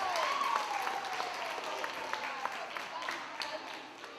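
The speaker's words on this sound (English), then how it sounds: "Give her a nice big round of applause." Applause from an audience at a school time capsule reveal, a steady wash of clapping that stays fairly even and fades a little near the end, with a voice briefly audible over it.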